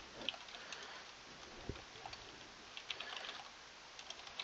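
Quiet, rapid keystrokes on a computer keyboard while entering Java code, an uneven patter of soft clicks with one duller thump, close and without talking.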